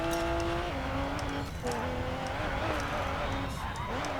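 A Toyota GR Supra revs in the Racing Master racing video game. Its engine note rises and falls continuously, with shifting pitch as the car accelerates, filling the whole stretch.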